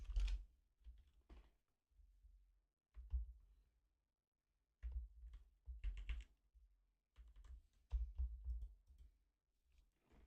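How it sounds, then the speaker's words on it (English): Close, quiet keystrokes on a computer keyboard come in irregular bursts of clicks, separated by short pauses, with no talking. "something is off with my keyboard."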